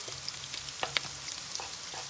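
Close, steady sizzling of onion frying in a pan, with soft crackles and pops scattered throughout.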